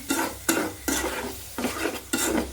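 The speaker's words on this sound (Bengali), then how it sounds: "ডাল দিয়ে একটু কষিয়ে নিব" Lentils stirred and fried in a pan with cooked spice paste, scraping strokes about every half second over a steady close sizzle, with no voices.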